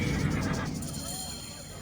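A short horse neigh from the Assassin's Creed Origins video game, loud and close, blended with a voice talking over it.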